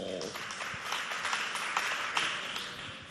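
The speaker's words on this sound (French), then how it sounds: "On l'applaudit bien fort." Audience applause for a poet at a school poetry competition, a steady spatter of hand claps of moderate loudness sustained for a few seconds.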